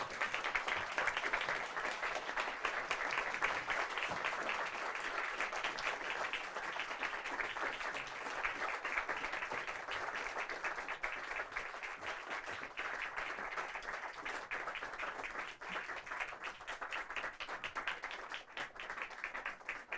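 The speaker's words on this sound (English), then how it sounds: "give them a big round of applause" Partners, friends and family at a Royal College of Surgeons diplomate ceremony applaud from a standing crowd, a long, even wash of many hands clapping that stays fairly quiet and distant without letting up.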